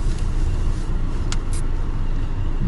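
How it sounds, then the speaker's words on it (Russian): Steady car traffic in a stop-and-go jam on the streets of Ulan-Ude, heard from inside a vehicle, with a continuous low road rumble and engine drone and a couple of brief higher hisses from passing vehicles. "Едем в пробках."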